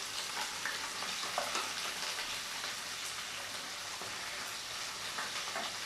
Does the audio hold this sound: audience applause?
no